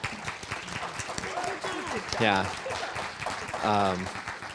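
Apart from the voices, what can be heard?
audience applause for the panelists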